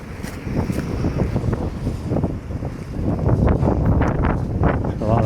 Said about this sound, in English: A lot of wind today.